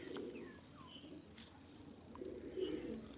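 Pigeons cooing softly in a loft, low throaty coos repeating with faint chirps and light background hiss, no speech.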